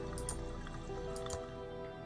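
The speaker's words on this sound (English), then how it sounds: "It's pouring out water." Water pours out in the Thimbleweed Park adventure game, a soft trickling and dripping flow with a few brighter splashes, heard faintly over steady background music.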